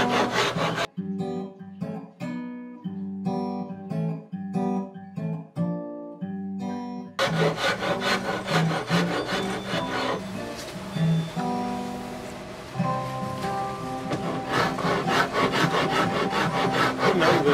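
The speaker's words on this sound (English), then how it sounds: "I just use this real raspy wood rasp." A coarse wood rasp files the wooden body of a three-string cigar box guitar in repeated rough scraping strokes, heard up close with music playing alongside.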